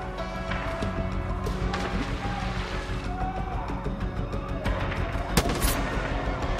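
Gunfire crackles through Far Cry 5 combat, scattered shots and short bursts over a busy game background, with one sharp, louder crack standing out near the end.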